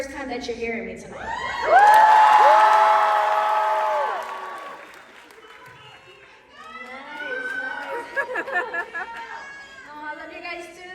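A live show crowd cheers, whoops and claps loudly after a woman onstage prompts them, the noise surging and tapering, with her voice heard before and after the burst.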